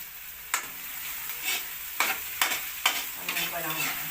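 Pork fries with softened onions in a pan, a constant sizzle broken by several distinct scraping stirs spaced about half a second apart, close and clear without any voices.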